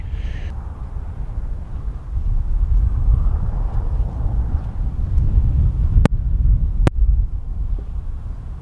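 Wind on a Scottish hilltop near the abandoned village of Binnend buffets the microphone with a steady, low, roaring rumble, broken by a couple of sharp clicks.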